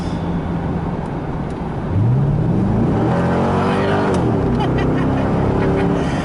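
A 2000 Chevrolet C5 Corvette accelerates hard as the transmission kicks down, engine note jumping and then climbing steadily in a loud, sustained rev heard from inside the car.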